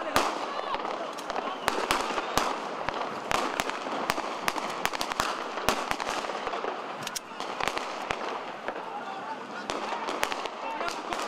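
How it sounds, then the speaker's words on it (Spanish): Repeated sharp gunshots ring out outside a police hospital during a violent hostage rescue, irregular cracks and bursts coming in rapid clusters over a busy crowd-like background with voices throughout. "En los exteriores del hospital de la policía se escucharon los primeros disparos"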